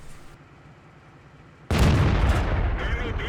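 A loud, sharp tank cannon shot from World of Tanks cuts in abruptly over low rumbling battle ambience, with a single heavy blast that decays into a lingering roar.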